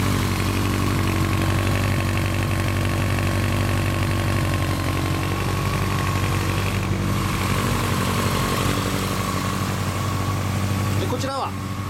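A Honda CB1100 motorcycle with a Moriwaki aftermarket muffler idles steadily with a deep rumbling throb, loud and close throughout, while people talk over it.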